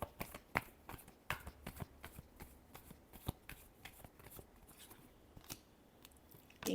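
Tarot cards are shuffled close up in a fast, crisp run of riffling flicks and snaps that continues without pause, with no talking over it.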